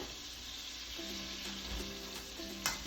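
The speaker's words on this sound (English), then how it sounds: "now we're gonna dump in our butter" Butter sizzles and fries in a pan, a steady close crackling hiss with faint stirring scrapes beneath it, no voices.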